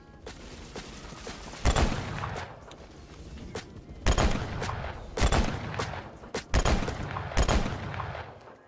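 Pistol shots in the shooter game Phantom Forces crack out in scattered bursts, several sharp close reports spaced irregularly over steady background game noise.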